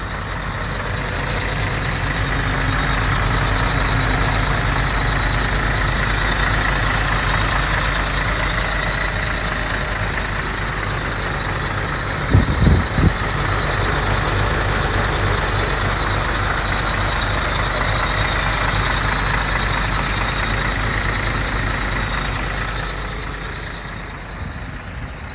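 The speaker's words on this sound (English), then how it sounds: "Whilst the engine is running, I'll just take you in for a closer listen." A Volvo B8R Euro 6 bus engine idles steadily, heard up close as a continuous loud rumble with a high whining hum on top and a brief clunk midway, no talking.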